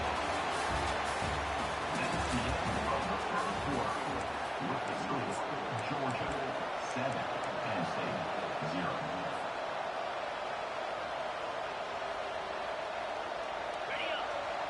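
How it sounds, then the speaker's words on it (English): A football stadium crowd roars in a dense, continuous wash of noise that holds steady and loud throughout, with voices blended into the din. "It's early, but this crowd is fired up. Listen to this noise here."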